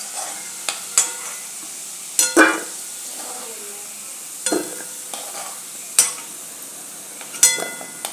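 Potato pieces fry in hot oil in a pan and get stirred, a soft steady sizzle broken by sharp scrapes and clinks of a spoon against the pan at irregular intervals, close and fairly loud.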